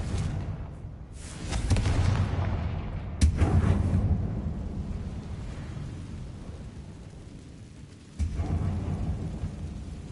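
Fiery Confringo spell blasts in Hogwarts Legacy, a loud rumbling explosion near two seconds and another sharp burst at about three seconds, with a further impact around eight seconds over a continuous low rumble of game ambience.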